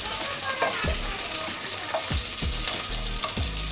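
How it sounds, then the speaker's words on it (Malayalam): Curry leaves and urad dal frying in a pan crackle with a steady sizzle while a spoon stirs them, giving several soft scraping strokes near the mic, with no talking. "ഒന്ന് ഇളക്കി കൊടുക്കാം."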